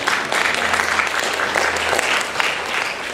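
A church congregation applauds, producing a thick, continuous roar of many hands clapping together at an even level for about three seconds.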